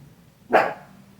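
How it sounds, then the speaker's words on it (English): The dogs next door let out one sharp bark from a backyard, heard at a moderate distance above a quiet low hum. "It's okay, it's just the dogs next door."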